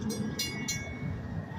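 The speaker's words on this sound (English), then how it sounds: "That's the end of the train right there." The last cars of a freight train on a Genesee and Wyoming line in Pennsylvania roll past with a steady rumble and a few sharp metallic clinks early on, fairly close and without talk.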